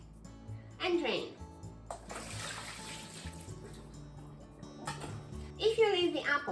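Water splashes and pours in short gushes near the listener as salted water drains from a bowl of apple slices, with running water and bowl clatter over a steady hum.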